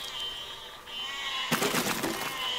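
A sheep bleats loudly in the physics building game Besiege, a single drawn-out cry that rises over a steady electronic game hum.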